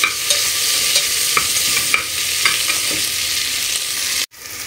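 Onions frying in a pan for a capsicum dish give a loud, even sizzle with a few light stirring ticks, then a brief drop to near silence just before the end.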